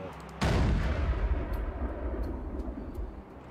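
A cannon in a video game fires once with a loud, sudden boom, then a rumbling decay fades over the next few seconds.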